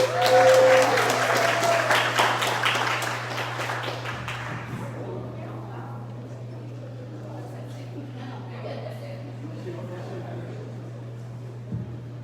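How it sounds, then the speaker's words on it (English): An audience at a Black Lives Matter community discussion in Charlotte applauds the mayor, loud clapping at first that fades over several seconds into scattered claps and murmuring under a steady low hum. "Let's have a round of applause for Mayor Vi Lyles."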